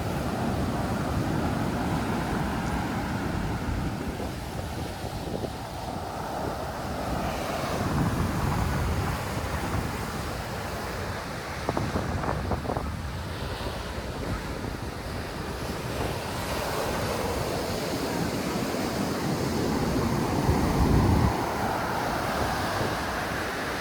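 Ocean waves breaking on the beach at a Sri Lanka resort in Tangalle, a continuous wash of surf with rising and falling swells, mixed with wind buffeting the microphone.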